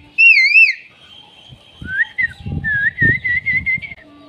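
A voice imitates the call of a koel bird, whistling loud, wavering high notes followed by a run of repeated warbling whistles, close and alone with faint low sounds underneath.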